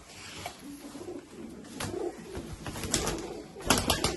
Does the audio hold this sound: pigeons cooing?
yes